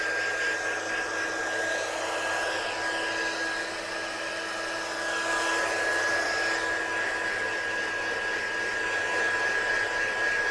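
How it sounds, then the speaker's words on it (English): A heat embossing gun blows steadily and close for over ten seconds while heat-setting a stamped handmade card, a constant whooshing hum with a faint whine. "So let's heat set this Get You Happy on"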